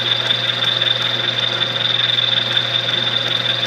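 A small milling attachment cuts high-speed steel at 300 RPM, giving a steady loud motor drone with a bright sustained whine and a low hum throughout, close and unbroken by speech.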